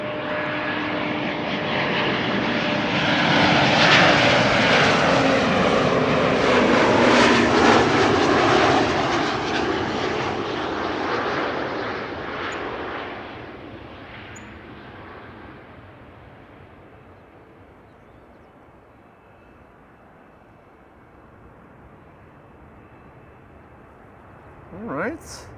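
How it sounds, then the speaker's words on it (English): An Emirates SkyCargo freighter touches down on runway 36R at Amsterdam Schiphol, its loud engine roar building and peaking close by, then fading away into quiet, with a brief sharp noise at the very end. "that's the Emirates Sky Cargo that just arrived on 36 right"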